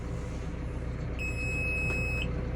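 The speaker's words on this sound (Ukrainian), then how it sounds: "Починає пищати, і в мене є 3 секунди, щоб нажати кнопку" A steady high-pitched electronic warning beep from a tractor sounds for about a second over loud, rumbling engine noise, warning that the power take-off shaft has not disengaged.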